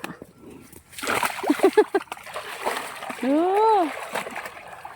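Thai buffaloes splash and wallow in water close by, with sloshing bursts, while voices call out and talk over the splashing.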